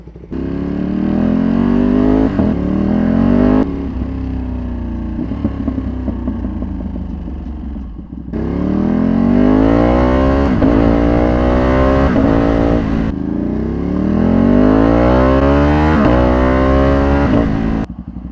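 A Ducati V2 motorcycle being ridden, its engine revving up through gears in loud rising sweeps, with brief drops between shifts and repeated accelerations, close and alone.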